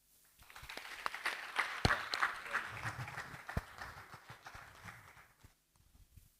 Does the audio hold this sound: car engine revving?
no